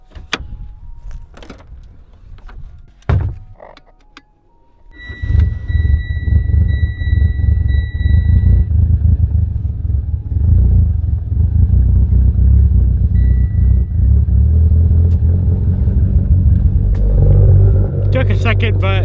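Mitsubishi Evo X with a freshly rebuilt engine starting on a jump start: a few clicks and knocks, then the engine catches and settles into a steady, loud, rumbling idle, with a whine partway through and a voice near the end.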